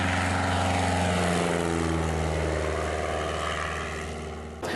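A Piper Super Cub propeller plane takes off from a field near Cumberland Island, its engine a loud steady drone with strong harmonic tones that slowly fall in pitch and fade as it climbs away, ending in a brief thump.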